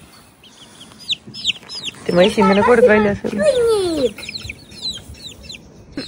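Backyard chickens cluck and chatter in short bursts around a family yard, with one loud squawking run in the middle, while people talk close by throughout.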